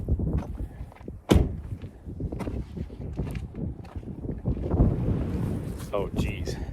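Strong wind at a trailhead gusts across the microphone as a steady rough rush with irregular swells, heard under bits of nearby talk and a few soft knocks.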